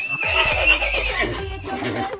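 A horse neighing sound effect plays as a loud, close whinny, its shrill, wavering cry dropping over about two seconds with no talk over it.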